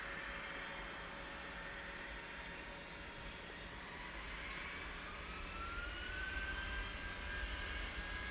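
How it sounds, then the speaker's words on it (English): An airliner's jet engines thunder on takeoff at Brussels airport in the Tower Simulator 3 air traffic control game, a loud sustained roar with a rising whine layered on top that swells near the end. "And there's the roar of the engine crossing the touchdown point."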